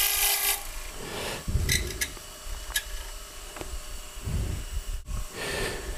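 Rough, intermittent scraping and rasping of a hook tool hollowing out wood, coming in uneven strokes with short bright scratches and pauses between cuts, close and fairly loud.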